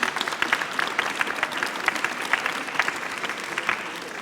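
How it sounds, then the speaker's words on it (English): Steady applause from an audience, dense overlapping claps sustained throughout at a fairly even level. "Please join me in a round of applause for this great panel we have."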